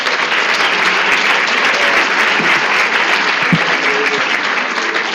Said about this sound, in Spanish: muchas gracias por el caluroso aplauso